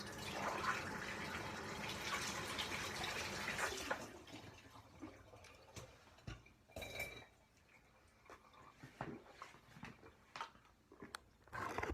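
A kitchen tap runs water strongly for about four seconds and then shuts off. Drips and the clink of a glass and dishes follow, quiet and close.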